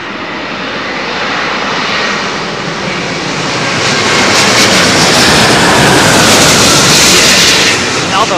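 An Airbus A350 landing on runway 27L at London Heathrow makes a broad, rushing jet roar that swells louder over the last few seconds as it passes close by.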